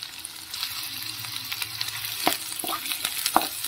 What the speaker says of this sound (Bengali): 30 থেকে 40 সেকেন্ড মতো আমি একটু ফ্রাই করে নেব